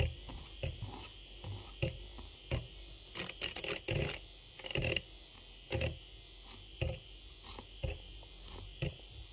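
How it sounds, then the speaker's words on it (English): A handheld electric milk frother whisks semi-skim milk. A close, steady buzzing whir is broken by repeated short clicks and knocks as the whisk moves through the milk. "You can see it's starting to froth. You can hear the change in the texture of the milk as well."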